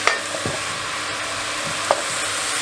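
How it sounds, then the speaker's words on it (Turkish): Mushrooms sautéing in a hot pan give a steady, close sizzle, with a couple of sharp clicks from stirring near the start and again partway through, and no talk. "Şimdi burada mantarları güzelce bir soteleyeceğiz."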